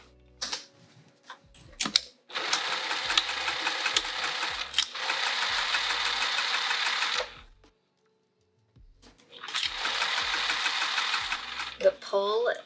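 A sewing machine stitches a pouch exterior across a nylon zipper in two sustained bursts of rapid whirring, separated by a brief pause, with soft handling clicks between runs and no talk during the sewing.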